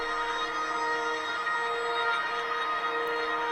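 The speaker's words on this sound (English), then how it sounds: "Some really like this nice drone I believe I got from Splice." A synthetic drone sample from Splice holds as a dense, sustained tonal pad with stacked steady harmonics and a bright upper shimmer. The texture stays unchanging and fairly loud for its whole length.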